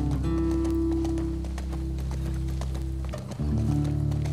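Rhythmic hoofbeats of a galloping horse in the video game The Last of Us Part II pound steadily over a constant low background drone, pausing briefly before resuming.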